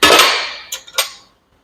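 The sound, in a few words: hammer tapping skid loader cylinder part back into place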